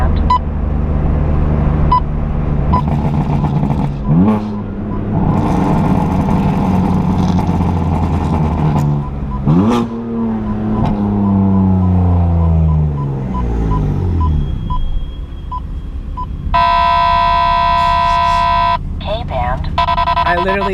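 A BMW F82 M4 with a burble tune and a loud exhaust accelerates hard in the street. Deep revving sweeps rise and fall through repeated gear pulls, with crackling burbles between them, and a high electronic tone comes in near the end.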